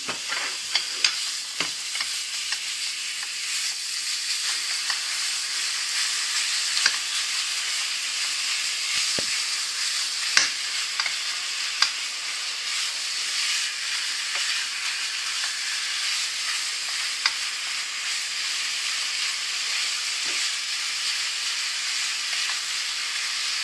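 Olives and kefta fry together in one pan, giving a steady, fairly loud sizzle and hiss throughout, with occasional sharp clicks and scrapes from stirring.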